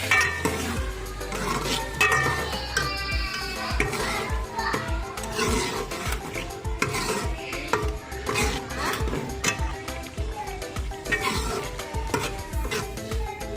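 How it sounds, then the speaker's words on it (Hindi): Chicken keema frying with yogurt in a pan, a busy sizzle under frequent stirring and scraping clatter of a spoon, with faint children's voices in the background. "दही ऐड करने के बाद 2 से 3 मिनट तक हम मज़ीद इसकी भुनाई करेंगे"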